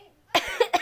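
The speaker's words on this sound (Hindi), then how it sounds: "सॉरी खांसी हो रही है" A few sharp coughs from a person close by, three bursts in quick succession with no talking.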